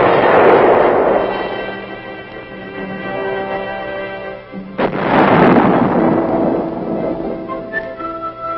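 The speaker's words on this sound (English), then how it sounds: "muzzle blast is a potential source of damage and a hazard to the crew" Artillery gun firing during proving-ground testing at Aberdeen: two heavy muzzle blasts, each a loud sharp boom followed by a long rumbling decay, the second about five seconds after the first.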